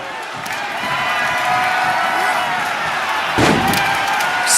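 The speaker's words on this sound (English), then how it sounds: "Oh, strongest slam." Wrestling slam in the WWE 2K25 video game: a loud, sharp impact lands midway through, over a constant roar of arena crowd cheering, with commentary voices underneath.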